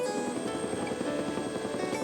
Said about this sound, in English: The helihikers are ferried to their next trek by pilot Doug McIntosh